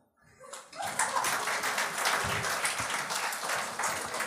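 Studio audience on a French-language gong show television program breaking into applause, a dense burst of clapping that rises quickly after a short quiet start and holds steady and loud.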